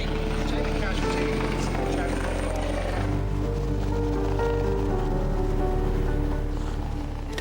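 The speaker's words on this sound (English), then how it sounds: "the Coast Guard helicopter arrives from its base at Lyon Solent" A Coast Guard rescue helicopter arrives at a cliff-fall scene at Anvil Point, its steady low rotor drone and engine whine filling the air continuously and loudly, with people talking over it.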